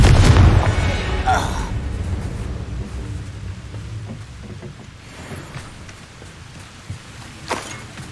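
A Confringo fire-blast spell from Hogwarts Legacy goes off with a deep, loud boom at the start, followed by fainter game rumbles and scattered impacts.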